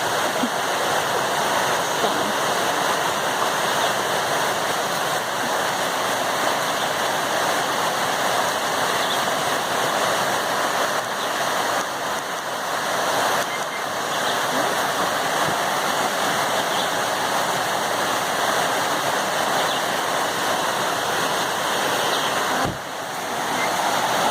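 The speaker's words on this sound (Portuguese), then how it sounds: "Olha o barulho da água" Steady broadband rushing of river water, continuous and fairly loud throughout with no voices.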